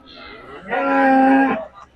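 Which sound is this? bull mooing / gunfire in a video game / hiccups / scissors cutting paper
bull mooing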